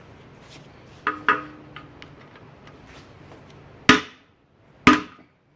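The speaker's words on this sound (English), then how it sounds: "Still a little bit of screw in there, so I'm going to hammer it some more." Sharp metallic hammer strikes on a stuck screw in a Johnson Evinrude 6 HP outboard shift handle, four distinct blows spaced irregularly, the last two louder and ringing, close up in a quiet space.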